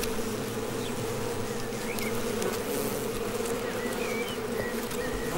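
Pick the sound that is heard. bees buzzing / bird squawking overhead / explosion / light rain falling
bees buzzing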